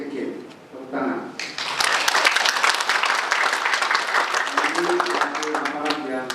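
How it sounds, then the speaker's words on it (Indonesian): Audience applause at an official event in Bali, breaking out after a moment of speech and building into sustained, fairly loud clapping, with a voice heard near the end. "Tepuk tangan."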